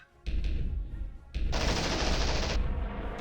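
Luftwaffe aircraft machine guns strafing an RAF airfield in a Battle of Britain video game, loud close bursts of rapid automatic fire, a short burst, a brief lull, then a longer sustained burst, with no speech.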